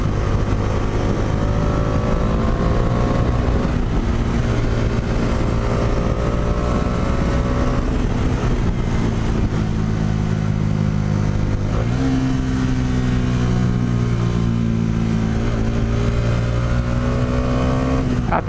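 A Bajaj Dominar 400 motorcycle engine drones steadily and loudly throughout a riding run, its pitch climbing through the gears and dropping with shifts around the middle, heard close from the rider's position with no talk.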